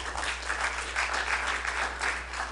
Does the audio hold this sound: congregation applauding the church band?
yes